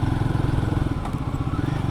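A Royal Enfield Guerrilla 450 motorcycle engine is heard while riding near Chikmagalur, with a loud steady throbbing thump from close by that rises slightly in pace, and no talk over it.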